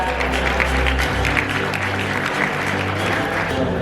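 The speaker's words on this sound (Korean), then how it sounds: "큰 박수 부탁드립니다." Sustained applause from a large audience at a Seoul business-matching industry event, a dense steady clatter of many hands filling the room with a low hum beneath it.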